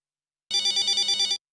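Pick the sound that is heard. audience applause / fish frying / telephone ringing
telephone ringing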